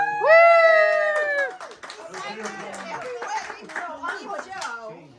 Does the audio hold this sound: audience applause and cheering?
yes